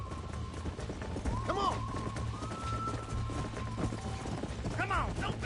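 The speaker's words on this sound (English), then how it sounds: "There's the horses!" A group of horses gallops in the video game Red Dead Redemption, quick hoofbeats running under a tonal whistle, with a short shouted line and bursts of neighing near the end.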